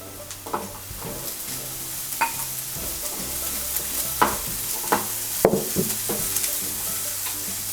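Sliced onions and capsicum sizzle in a pan, close and steady, as a spatula scrapes and stirs in uneven strokes with a few sharper clacks.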